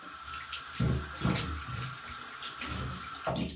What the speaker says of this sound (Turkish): Ayağını yıkacaksın şimdi.